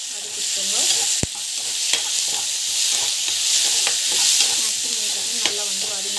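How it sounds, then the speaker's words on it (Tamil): Chopped vegetables and tomatoes sautéing in a pan for a healthy cauliflower fry, with a steady loud sizzle and occasional scrapes and taps of a stirring spoon against the pan. "நல்லா வந்து வதக்கிக்கோங்க."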